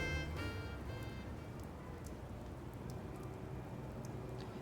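Steady rain falls in the horror video game Spirit Hunter: Death Mark, a quiet, even hiss of drops that holds without a break, with a brief tonal sound at the very start.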